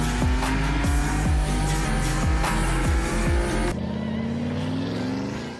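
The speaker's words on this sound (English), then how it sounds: "BMW M4 CSL." A BMW M4 CSL accelerates hard through quick upshifts, each gear change cutting the rising engine note. Then the sound drops abruptly to a steadier, quieter drone that fades near the end. Loud and close, with no speech.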